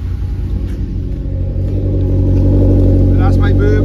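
A Ford Escort Cosworth barn find revs up with a deep, throaty exhaust rumble that grows louder and steadier toward the end.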